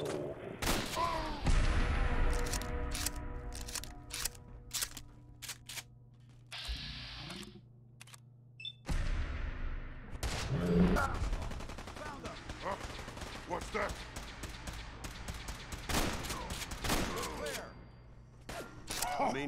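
Gunfire in the video game Fallout 4, played in modded survival mode: bursts of shots and mechanical clatter come in clusters across the clip, with a brief quiet gap midway.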